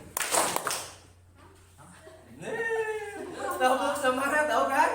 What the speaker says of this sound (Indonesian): Oke, tepuk semangat 1 kali.